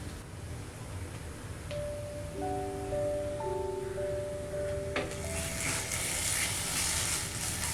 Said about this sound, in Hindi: हम अच्छी तरह से अदरक लहसुन को भूनेंगे लो फ्लेम पर 1 से 2 मिनट